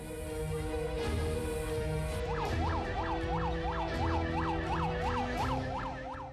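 Fire engine sirens wail as fire trucks from Palembang and Ogan Ilir respond to a house fire, a rising and falling siren joined partway through by a faster yelping pattern, steady and fairly close.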